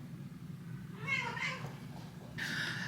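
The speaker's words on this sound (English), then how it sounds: "Oh y'all, the cat." A house cat meows at close range, two distinct calls over a low background hum.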